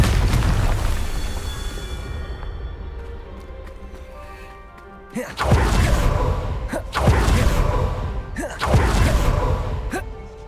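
Confringo spells explode in the Hogwarts Legacy video game, a rumbling blast fading out, then three loud booming explosions in quick succession, each with a sharp crack and a deep rolling tail, close and heavy.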